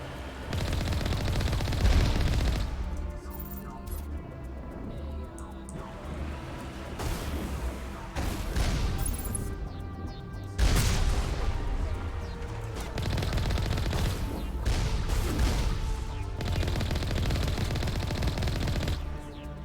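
Turret gunfire in Mass Effect: repeated rapid bursts of loud automatic shots, with heavy volleys starting near 0.5 and 10.5 seconds and brief lulls between, continuing for about twenty seconds.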